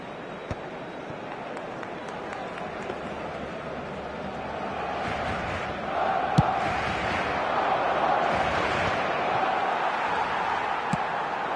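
Stadium crowd noise from the eFootball football video game, a broad steady roar that swells louder past the midpoint, with faint voices over it.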